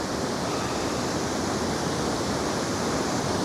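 A waterfall roars outdoors in cold weather, a constant, even rush of falling water that fills the whole scene with steady broadband noise and no pauses.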